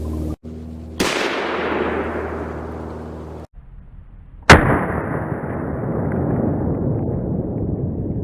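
Rifle shots from a 30-06 firing 125-grain Remington Core-Lokt rounds, two loud sharp blasts several seconds apart, each followed by a long rumbling decay, no talking.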